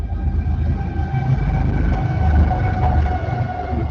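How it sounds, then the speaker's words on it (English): A train rumbles past close by, a loud sustained roar with a steady tonal whine carried over the rolling rail noise. "The train going by."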